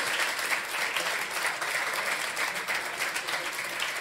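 An audience applauds steadily at a live drag comedy talk show, a dense, continuous clatter of clapping hands that holds at an even level throughout with no talk over it.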